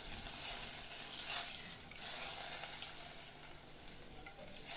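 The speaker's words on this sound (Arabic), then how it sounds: "انزل عليهم كده بكوبايه من الميه" Water hits a pan of sizzling tomato sauce for Egyptian molokhia, raising a steady, hissing bubbling that swells briefly and then settles into a continuous frying sizzle, heard close and alone.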